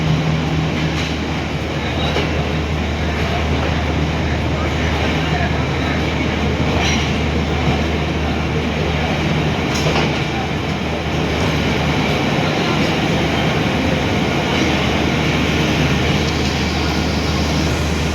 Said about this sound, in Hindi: यहाँ से जाफर एक्सप्रेस का डिपार्चर हुआ